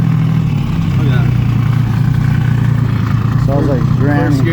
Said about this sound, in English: Sounds like granny. First gear idling.